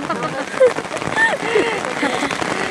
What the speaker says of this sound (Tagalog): kaya nag-ulan